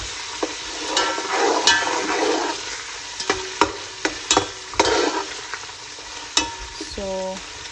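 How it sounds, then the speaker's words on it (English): Tomato chutney with mint or coriander stirred in a pan on low flame, with a soft sizzle throughout, irregular spoon clinks and scrapes against the pan, and a few sharper knocks near the end. "Stir it for 20 to 30 seconds"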